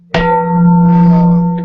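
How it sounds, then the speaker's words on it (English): A large gong is struck once, giving a sharp attack followed by a long, steady, ringing hum with sustained overtones that swell slightly and linger close and loud. "It is a much bigger gong."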